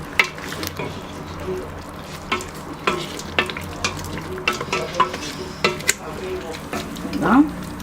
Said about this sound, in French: On ajoute maintenant le concentré de tomate.